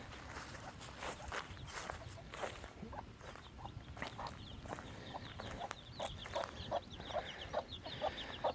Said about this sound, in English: Down here at the chicken coop, it's getting crowded.